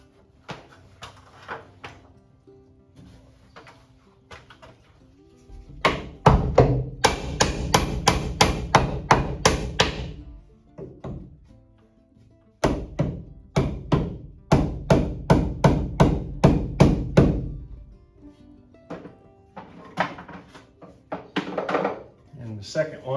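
A hammer drives nails into garage siding in two long bursts of rapid, sharp, ringing blows, close and loud, with quieter scattered taps and knocks between them.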